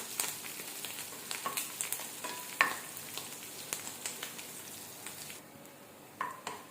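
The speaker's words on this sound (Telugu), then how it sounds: "మనకి తాలింపు అనేది వేగేంత వరకు వేయించుకోవాలి" Tempering spices crackle and sizzle in hot oil nearby, a busy frying hiss punctuated by small pops and a few light stirring clicks.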